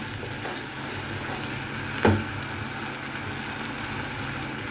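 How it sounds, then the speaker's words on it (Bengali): Spice masala frying in oil for a chicken roast, a steady close sizzle and crackle with one brief sharper clatter midway. "এখন তাই আমি ভালোভাবে মশলাটা কষিয়ে নিচ্ছি"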